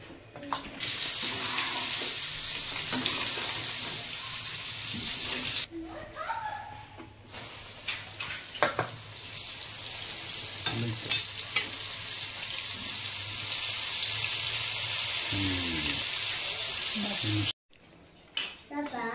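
Sweet corn mixture fries in a heated pan with a steady, bright sizzle that runs for most of the stretch, broken by stirring scrapes, a couple of brief pauses and some clatter.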